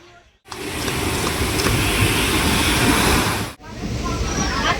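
A loud, continuous roar of a train rolling in to a station platform, a steady rumbling wash lasting about three seconds before cutting off, then quieter rumble resumes.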